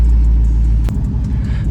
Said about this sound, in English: Go ahead and get a little cold start